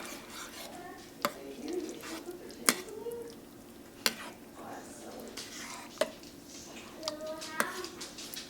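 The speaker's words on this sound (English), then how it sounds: "and stir it all in there." Split pea soup being stirred in a crock pot, with a spoon knocking sharply against the pot several times at uneven intervals over a soft, wet churning sound.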